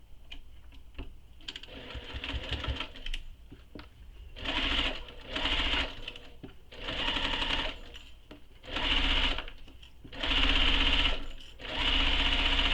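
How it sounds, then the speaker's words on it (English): A sewing machine bastes layers of a convertible tote bag in place, whirring in repeated short runs with brief stops between them, fairly close and moderately loud. "So I'm going to baste this in place."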